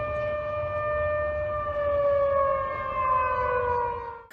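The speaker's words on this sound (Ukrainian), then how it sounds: "там виють сирени в місті" An air raid siren wails steadily, its tone slowly sliding downward, loud and sustained with no other sounds.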